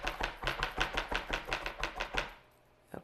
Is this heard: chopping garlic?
yes